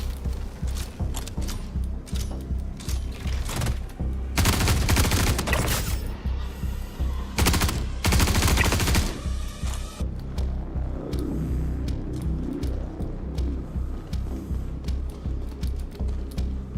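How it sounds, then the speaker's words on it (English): Gunfire from enemies shooting from downstairs in Star Citizen, heard as scattered shots with two dense automatic bursts, loud and fairly close, between quieter clicks and mechanical clatter. "Shooting from downstairs."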